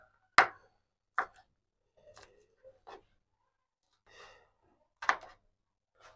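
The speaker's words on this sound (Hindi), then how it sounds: "सब्ज मिर्च जो है वो भी मैंने काट लिया है।" A knife finely chops green chilies on a board in a quiet kitchen, with a handful of sharp, separate taps spaced irregularly and close by, some crisp and some softer.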